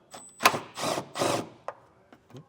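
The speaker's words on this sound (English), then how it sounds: "On the front of our panel here, it looks like we have 3 10mm screws to remove." A power tool spins out 10mm screws from a plastic panel on a 2023 Volkswagen, giving three separate whirring bursts, each about a third of a second, followed by a few small clicks and taps nearby.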